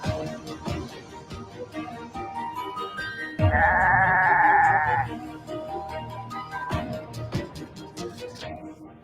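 Goats bleating in the video game Goat Simulator, a musical-style sequence, with repeated bleats over a busy backdrop and one long sustained bleat in the middle.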